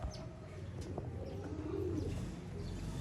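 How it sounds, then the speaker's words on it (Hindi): Pigeons coo softly in a low, rolling murmur, with a few faint chirps over a steady background hum, somewhat distant and no talking. "डब वाले कबूतर, मिस्से जालदार कबूतर, शेखों वाले कबूतर"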